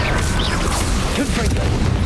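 A Bombarda spell blast in Hogwarts Legacy, a short, muffled boom amid busy game effects and a brief swishing whoosh.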